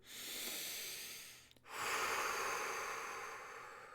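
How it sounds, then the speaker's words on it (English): A person takes one deep, audible breath in and then a long breath out, close and soft, with a brief pause between, no speech. "let's take a deep breath in, deep breath out"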